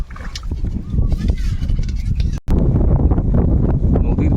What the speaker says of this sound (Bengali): আরে দেখুন হাওয়া হচ্ছে পুরো ঝোড়ো হাওয়া